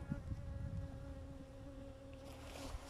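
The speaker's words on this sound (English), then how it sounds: "Can we just get these bees down?" Honey bees buzz around a lifted hive frame, a dense continuous drone of many wings close by, steady and low with faint shifting overtones and no speech.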